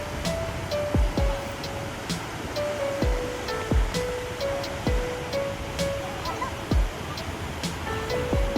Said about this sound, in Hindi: ये वाटरफॉल बेहद खूबसूरत है।